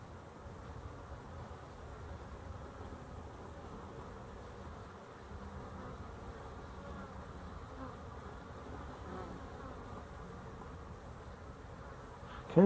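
Honey bees buzz steadily around a hive entrance in a dense, continuous drone, with many insects close by and no voices over the hum.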